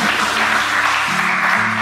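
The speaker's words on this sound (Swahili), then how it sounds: "Chapia Yesu makofi" A church congregation claps for Jesus during a youth sermon, a continuous wash of handclaps under a sustained musical keyboard tone.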